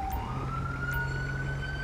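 A GTA 5 ambulance siren wails steadily in the game, with a continuous rising electronic tone over low traffic rumble.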